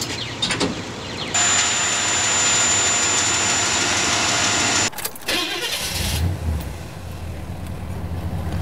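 A 1974 Chevrolet half-ton Fleetside pickup engine runs on propane, a steady idling drone with a loud broadband roar through the middle and a brief dip before the rumble carries on.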